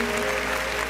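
A short burst of applause, many hands clapping in a dense, steady wash with a faint tone running underneath.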